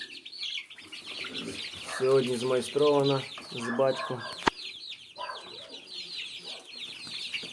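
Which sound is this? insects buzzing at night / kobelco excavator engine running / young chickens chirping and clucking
young chickens chirping and clucking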